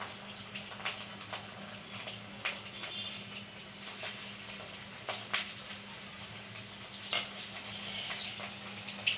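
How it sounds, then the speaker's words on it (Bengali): Fish fries in hot oil in a pan, a continuous close sizzle with frequent crackling spits and pops that flare at irregular moments, alone without talk. "তেলটা গরম হয়ে গেছে, এবার একটা মাছ আমি দিয়ে দিচ্ছি।"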